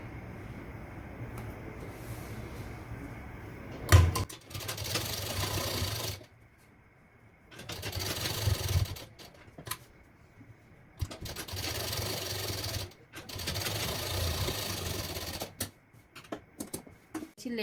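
A sewing machine stitches a princess-cut blouse in several bursts of fast, steady running, separated by short pauses, close and fairly loud.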